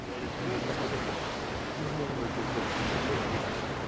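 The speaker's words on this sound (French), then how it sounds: "On va voir au-dessus de l'eau et un peu de vagues." Waves wash steadily against the shore of a small offshore island off the Normandy coast, a continuous broad rush of surf with some wind noise over it, moderately loud and with no talk.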